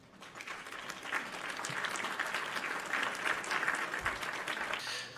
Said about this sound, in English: Let's get an applause in chat for Boindare